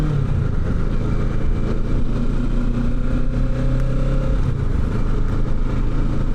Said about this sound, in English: 2025 Kawasaki Ninja 650. Bought it a couple weeks ago.